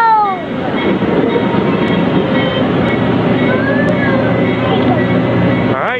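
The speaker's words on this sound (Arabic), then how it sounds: "Get on the train." A train approaches and passes close by with a loud, continuous rumble and screeching wheel squeals, while people talk nearby over the noise.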